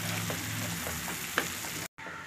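A steady soft bubbling and sizzling of meal maker (soya chunk) gravy simmering in a pan, close and continuous, with a faint clink partway through.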